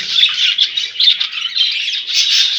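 Budgies in a home breeding setup with fast-growing chicks chirp and chatter continuously and close by, a dense, high twittering with no pauses.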